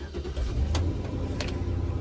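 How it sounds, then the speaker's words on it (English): A car is started and its engine turns over and settles into a running rumble, with a couple of brief mechanical clicks, close by and without talk. "Sam, turn that car on."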